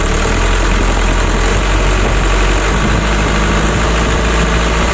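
A 120 PS Ragasa truck engine idling roughly at low throttle with a rough misfire, a loud, close, continuous low rumble with steady vibration and no voices.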